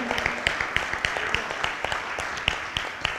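A church congregation at a Spanish-language sermon gives applause. Distinct, fairly sparse claps ring out at an uneven rhythm, moderately close, with some voices under them.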